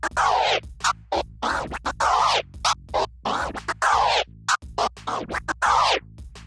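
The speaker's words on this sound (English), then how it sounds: "You could also perform a 3-click transformer on the forward motion and a 2-click flare on the way back." DJ crossfader scratching on a DDJ controller, cutting a record sample into rapid chopped bursts of three-click transformer strokes forward and two-click flares back, loud, rhythmic and alone with no talk.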